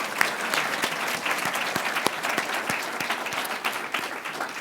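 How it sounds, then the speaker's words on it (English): Audience applause for a panel and speakers at a journalism talk event, a dense steady patter of many hands clapping at moderate distance, sustained for several seconds with no talking over it. "please, one more round of applause for our panel and our speakers"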